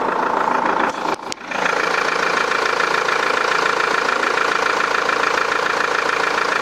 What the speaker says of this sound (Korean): 엔진 소리까지 한번 들어보도록 하겠습니다